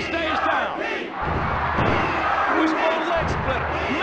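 A packed arena crowd at a wrestling match in WWF Warzone roars continuously and loudly, with slams from the ring punching through the wall of noise as a commentator talks over it.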